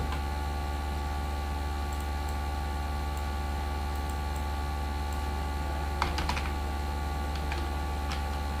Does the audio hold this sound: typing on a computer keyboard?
yes